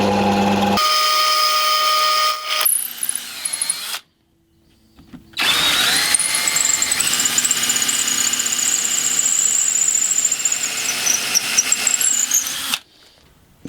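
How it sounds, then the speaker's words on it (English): A drill press bores 8mm holes in wood: a loud whining motor runs for a few seconds, cuts off, then spins up again with a high squealing cut through the wood before stopping. "I'm just going to drill out two 8mm holes to accept dowels."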